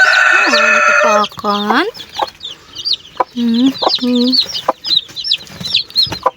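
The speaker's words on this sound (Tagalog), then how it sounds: "So cute na mga sisiw." Small newly hatched chicks peep in high, rapid chirps from a new brood, with a hen clucking in loud bursts up close; a person says a word briefly.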